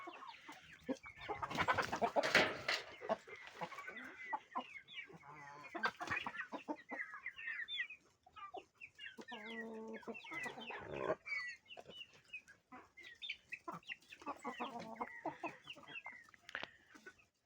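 Young roosters cluck and chatter in short bursts close by, with scattered squawks and a few faint voices over a quiet, uneven background.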